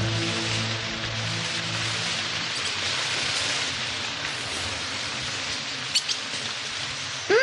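Steady rain falls in a tropical rainforest as a dense, even hiss with no voices, and a couple of brief sharper sounds come near the end.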